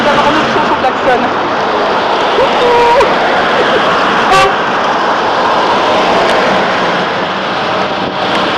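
Car horns honk in short bursts amid a loud, steady crowd and street din at a presidential motorcade rally, with a sharper blast standing out midway.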